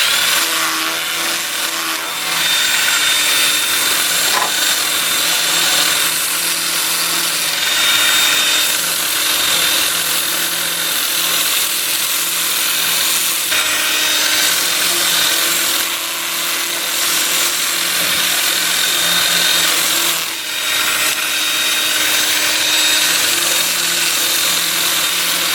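Wood lathe spinning in reverse at 360 RPM while a 2-inch sanding disc works a wooden bowl, a steady loud whirring and rubbing hum that runs continuously with slight dips, no talking.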